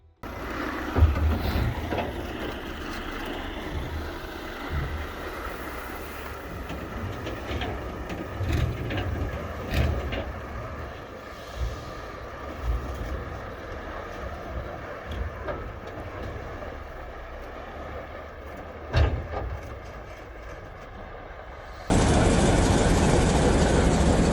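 Container freight train rolling along a railway, a long steady rumble of heavy wagons with periodic clanks and clicks, fairly near and continuous until an abrupt change near the end.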